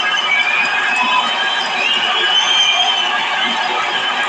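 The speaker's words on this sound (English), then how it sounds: "This crowd is on their feet in tribute." At a boxing match, a packed arena crowd stands cheering in a dense, steady roar of voices and whistles, loud and unbroken throughout.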